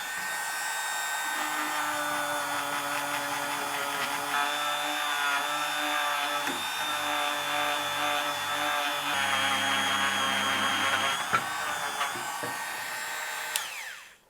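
A polishing tool whirs steadily on the thread tension part of a vintage Pfaff 30 sewing machine, a continuous motorised drone holding level with small shifts in pitch and stopping abruptly near the end.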